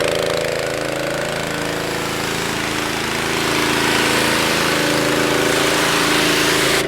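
Pressure washer spraying a dirty farm tractor, a steady loud hiss and motor drone running continuously without a break, no talking.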